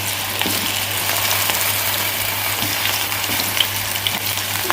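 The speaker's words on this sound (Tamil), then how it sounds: "நம்ம ஆயில்ல ஃப்ரை பண்ணலாம்." Cauliflower 65 pieces deep-fry in hot oil with a loud, dense, continuous crackling bubble, close up and unbroken by speech, with a low steady hum underneath.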